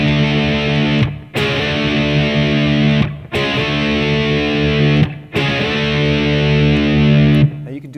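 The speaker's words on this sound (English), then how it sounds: "I've got a healthy dose of distortion on here," Heavily distorted electric guitar slides power chords up with a slide bar in an intro riff: four loud, sustained chords, each cut off by a short silence before the next.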